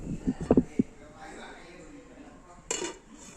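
A metal lid set on a pot of Chettinad chicken gravy, heard as a few quick close clinks and clatters of metal on metal, then a quieter stretch and a final short scrape, faint overall.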